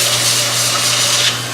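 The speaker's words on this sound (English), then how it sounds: "just with this rough disc sander." Continuous whirring grind of a disc sander against wood, steady and close, with a low motor hum underneath.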